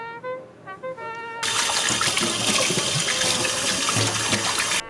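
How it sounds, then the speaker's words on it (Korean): A hedgehog's water bottle and food bowl are washed under running water. After a few faint, quiet knocks, a tap opens suddenly into a loud, steady, close rush of water with splashing that continues to the end. "물통과 밥통을 깨끗하게 씻어줍니다."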